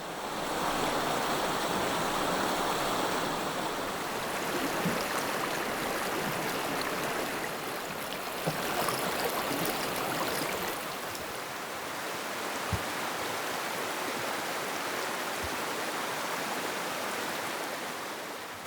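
A mountain river rushes in snowy Scandinavian mountains during a snowstorm, a continuous broad roar of flowing water heard close and steady, with no voices.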